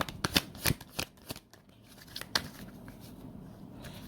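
Tarot cards being shuffled by hand, a handful of crisp riffling flutters and slaps close up, with short gaps between them.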